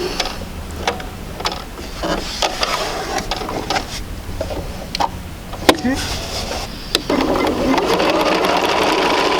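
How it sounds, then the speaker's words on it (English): A sewing machine stitches quilt pieces for a basic sampler quilt, its motor whirring continuously with needle clatter and brief stops and restarts, close by and fairly loud. "I'll go ahead and sew this."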